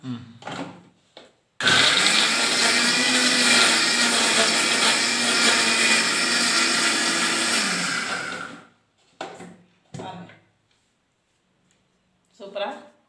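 A mixer grinder whirs through tomatoes for a broccoli gravy, one loud steady run of about seven seconds with a voice talking briefly before and after.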